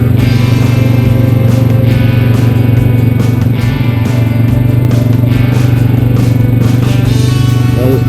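A Honda Rancher 420AT ATV engine drones steadily while riding down a swampy trail, a loud, close, low throbbing hum with faint rattles and scrapes on top and no voices.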